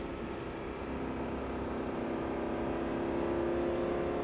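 A Lamborghini Gallardo engine accelerates hard on a racetrack, a loud, steady drone of layered harmonics that builds slightly in strength over about four seconds with no voices.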